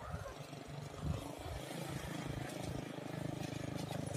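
A motorcycle passes by outdoors at a kite-flying field in Blitar, giving a steady, fairly loud engine roar that swells briefly and then holds over a busy background.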